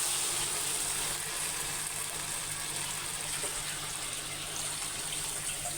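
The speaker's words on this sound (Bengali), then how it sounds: "দিয়ে দিলাম এই যে পানি" Water poured into a pan of simmering chicken curry makes a continuous, even rushing hiss with a faint sizzle underneath, heard up close and alone.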